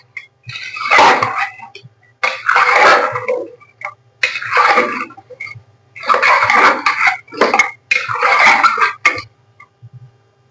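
Beef being mixed by hand with turmeric and spices in a bowl gives several close, wet squelching bursts of a few seconds each, separated by short pauses, with no talk.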